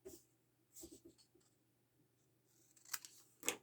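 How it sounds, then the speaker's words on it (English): Scissors snip through a piece of paper cut to length for a layered tag insert: a few quiet, crisp cuts spaced apart, with sharper snips near the end, and no talking. "So I'm going to cut a piece the same length as my tag. Let's cut this off here."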